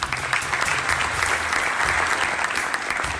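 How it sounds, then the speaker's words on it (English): Audience applause at a Zimbabwean gathering with President Mnangagwa, a steady, dense round of clapping from a large crowd that fills the whole stretch without speech. "I want, before I go further, to give them a round of applause"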